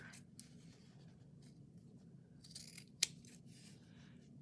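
A single short, crisp snip stands out against a low, steady background hum, with faint rustling before it.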